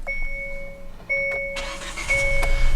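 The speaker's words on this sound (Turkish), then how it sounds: "Arabamızı bir çalıştıralım." Hyundai i20 car engine cranking and catching, with the starter whine and rising engine noise close by over about three seconds, steady electronic chime tones sounding throughout.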